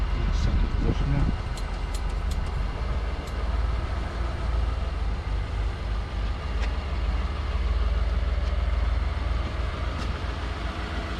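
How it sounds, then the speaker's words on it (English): A Range Rover L405 engine idles steadily during an inlet cleaning job, a continuous low rumble with fairly even loudness throughout, heard close in a workshop setting with no clear talk over it. "So it's at 1000."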